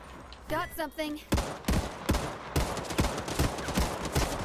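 Rapid gunfire in the video game Hawked, a loud burst of repeated shots after a brief voice, with the shots continuing in uneven clusters.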